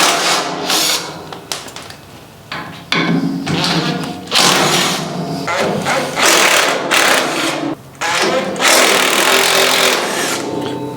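A power tool grinds and cuts away an old fuel tank bracket on a go-kart, loud and close, in repeated bursts of varying length separated by brief pauses.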